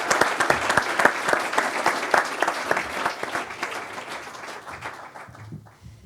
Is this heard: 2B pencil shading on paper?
no